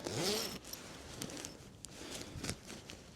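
A zipper runs quickly along a mummy sleeping bag, making one sharp close rip, followed by faint rustling and scraping of the fabric.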